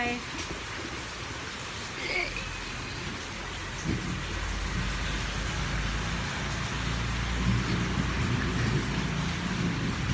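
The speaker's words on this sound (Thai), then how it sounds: "เมื่อกี้ฝนตกนี่ฝนตกจนเยอะเลย" Heavy rain pours down in a steady, dense roar, with low rumbles of thunder swelling beneath it, loud and close throughout.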